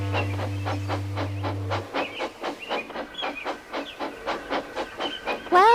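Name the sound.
steam locomotive Thomas puffing away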